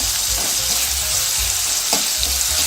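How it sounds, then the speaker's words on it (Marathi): Tomato, onion and chili sauté in a pan for prawn masala, giving a steady, loud, close sizzle with occasional stirring scrapes throughout. "टोमॅटो, कांदा, मिरची छान परतलं तर चांगली चव येते."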